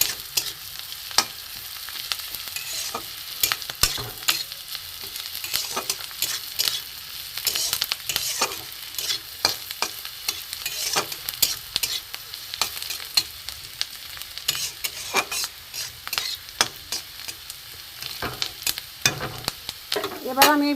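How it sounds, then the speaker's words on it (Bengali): Grated ginger and chaat masala sizzle in hot oil in a pan for egg dal, with the spoon scraping and stirring in irregular clicks and crackles over a continuous close fry. "একটু ভাজা ভাজা হোক।"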